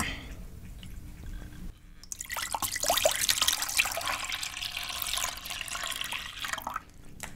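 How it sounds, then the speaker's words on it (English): 2% milk is poured into a cooking pot in one continuous liquid stream lasting several seconds, close and clear, with soft drips as it tapers off and no talking. "We're gonna add the milk to the pot."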